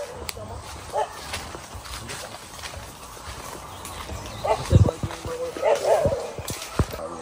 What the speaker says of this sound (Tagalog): Ito yung mga aso rin.